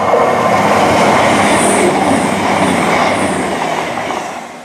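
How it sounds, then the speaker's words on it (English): A CrossCountry Super Voyager diesel train runs through Ashchurch for Tewkesbury station with a loud, steady rushing roar and rattle of wheels that slowly fades toward the end. "approaching now is a cross-country service to Penzance from Glasgow Central. That is a Super Voyager"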